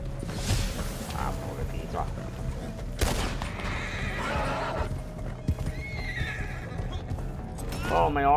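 A horse whinnies with hoof clip-clop in the video game Red Dead Redemption 2, set among gunfire bursts, while a player talks over the action.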